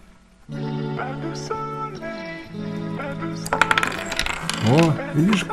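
Coins drop into a toy house-shaped money box, clinking and rattling against its mechanism in a busy run of metallic hits and ringing tones close up, with faint voices nearby.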